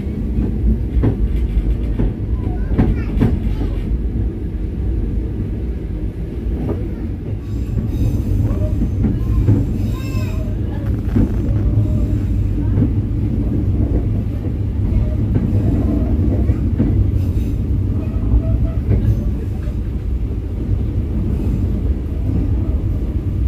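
A train pulls into a station with heavy rumbling, wheel squeals and clattering rails, loud and close for a long stretch, with some faint voices nearby.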